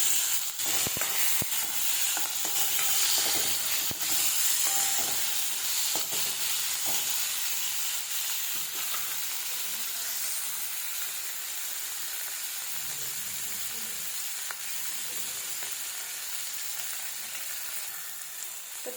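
Tomatoes and onions sauté in a pan for a bitter gourd stir-fry, making a continuous, fairly loud sizzle and hiss with a few light stirring clicks near the start.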